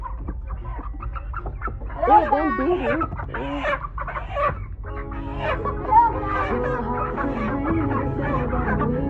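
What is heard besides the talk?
chickens clucking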